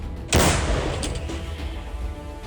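One heavy artillery gun blast booms out loud and close, followed by a long rumbling echo that slowly fades.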